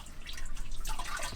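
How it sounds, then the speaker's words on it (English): Water seeping and dripping into a sailboat's anchor locker, soft irregular wet drips and trickles close by, faint and continuous over a low background, with no one speaking. "There's water just seeping out of it"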